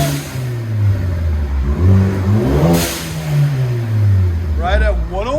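A 2017 Ford Focus ST with an MBRP cat-back exhaust and blowout valve revs up and settles into a loud, steady, close drone, its pitch rising and falling.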